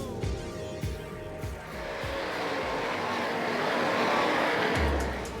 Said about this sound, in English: Curtis carefully follows the race as the cars muscle their way around each corner at speeds of over 100 miles an hour